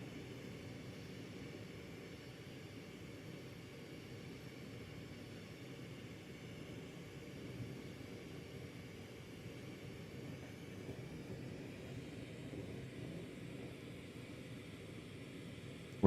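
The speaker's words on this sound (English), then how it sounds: "Let's go ahead and get the afterburners on and get this rounded out." Glassblowing torch afterburners roaring steadily for the whole stretch, a broad constant rush of flame noise, loud and close, with no talk over it.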